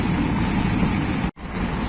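Rain falls at a railway station platform in Pakistan, a loud, constant wash of hiss and patter close by that cuts out for an instant near the end before resuming.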